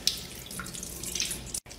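A sheet of soap paper dissolves under a running kitchen tap, heard as a quiet, steady stream of water splashing close by with a brief cut near the end.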